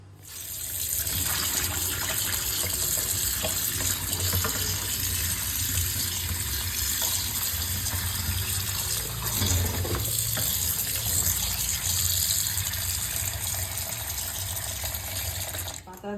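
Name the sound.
tap water running while washing leaves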